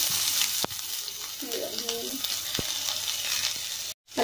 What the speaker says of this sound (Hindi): तो अब मैं प्याज फ्राई करूंगी।